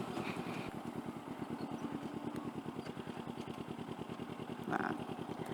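Kawasaki Ninja 250 FI motorcycle idling close by, a steady rapid low throb from the engine with a brief faint higher noise near the end.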